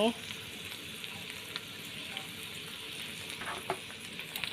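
Pad see ew noodles are stir-fried with sugar and oyster sauce in a hot pan. A steady, fairly quiet sizzle runs throughout, broken by occasional scrapes and clacks of the spatula.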